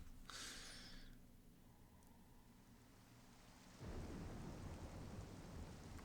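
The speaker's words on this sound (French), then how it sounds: "j'entends bien la pluie tomber là dans le casque" Rain and rolling thunder in Metroid Prime Remastered: a low thunder rumble fades out, then heavy steady rain hisses loudly on a surface for the last couple of seconds.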